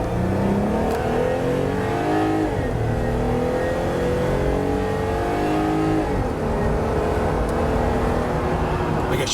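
A Jeep accelerates hard from about 1 mile an hour, engine note climbing through rising gear sweeps with shifts, loud and continuous throughout.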